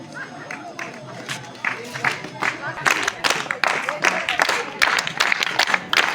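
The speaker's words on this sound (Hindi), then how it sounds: "तालियां बजती रहें।" A crowd applauds at the closing of an NSS special camp at a school in Gauan, Chamba. Sparse claps build into dense, loud clapping with a crowd murmuring underneath.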